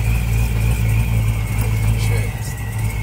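A 6-liter LS truck engine idles steadily with a deep, even rumble, close and loud throughout.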